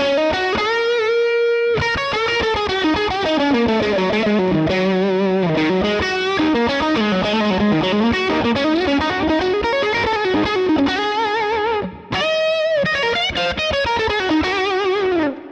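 Electric guitar played through a Hermida Zen Drive overdrive pedal into a Vox AC30 amp, giving a continuous driven melodic line with sustained, bending notes and one short break near the end, with no talking.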